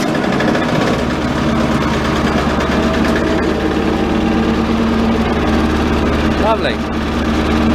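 Belle cement mixer engine running steadily after a service, a loud continuous low drone and rattle throughout, with a brief spoken word over it.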